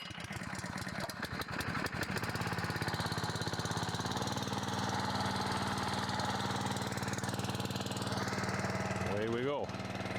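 A small gasoline engine on a pull start, run with some throttle and choke, sputters and then settles into a steady, loud buzzing run before a brief cough near the end.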